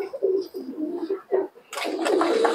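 Domestic pigeons cooing in a loft housing around a hundred birds, repeated soft low coos up close, followed by a burst of brighter fluttering and chatter.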